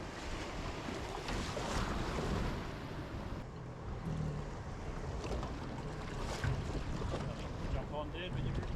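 Surf waves wash and churn nearby at a beach boat launch under gusting wind that buffets the microphone, with faint voices speaking now and then.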